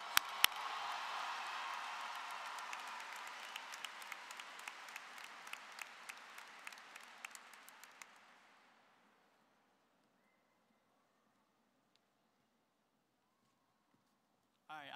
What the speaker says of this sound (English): Can we all give each other a round of applause?